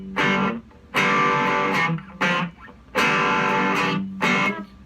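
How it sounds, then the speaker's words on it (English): Cigar box guitar played through its humbucker neck pickup gives loud, warm, slightly distorted chord strums in short bursts, several struck and held, then cut off with brief gaps between. "If you hear the neck pickup, it sounds like this."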